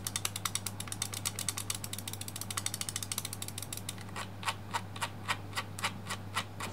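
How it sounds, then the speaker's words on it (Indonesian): Rapid ratcheting clicks of a Cooler Master MM720 mouse scroll wheel, a fast run of ticks that slows into evenly spaced, distinct clicks, close and alone. "ada bunyi krek-krek gitu kalau di scroll"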